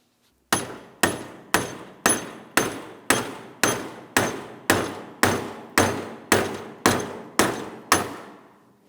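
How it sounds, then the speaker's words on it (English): Hammer taps drive the idler bracket out of the idler arm on a 2007-2014 GMC Sierra 2500 HD truck. Fifteen evenly spaced, sharp metallic strikes ring out close and loud, about two per second, each decaying briefly, with no speech. "we're going to tap on this area, which is going to drive our idler bracket out and away from the idler arm."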